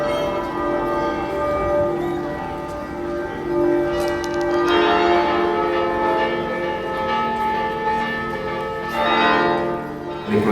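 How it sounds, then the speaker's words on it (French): Church bells ring outdoors in a town, sounding with rich sustained overtones. Fresh strikes cut in partway through and again near the end, and the resonant hum carries continuously between them. "Les cloches sont là."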